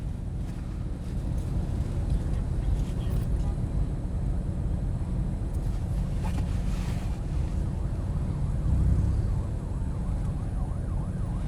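A siren wails in the distance beneath loud rumbling traffic and wind noise, rising and falling over several seconds.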